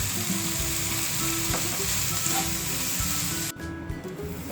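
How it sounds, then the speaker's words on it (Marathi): Onion and greens sautéing in hot oil in a wok give a steady, close sizzle with stirring scrapes, dropping a little quieter near the end, with no talk. "याच कढईमध्ये तेलामध्ये कांदा पाल चांगले परतून घ्यायचे आपल्याला"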